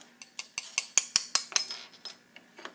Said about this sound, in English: I'm just going to cut straight and cut all this extra glass off.